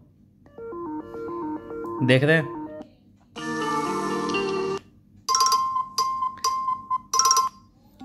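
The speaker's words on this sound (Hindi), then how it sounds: "मैं आपको एक प्ले करके दिखा देता हूँ" An iPhone's default ringtone plays as a series of bright, chiming melodic tones in several separate bursts, with a short spoken phrase among them.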